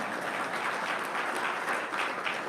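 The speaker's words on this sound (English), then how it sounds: "Yes, you can clap, it's a big deal." Audience applause at an economic roundtable in San Diego County, dense and even, steady at a moderate level through the whole moment with no speech on top.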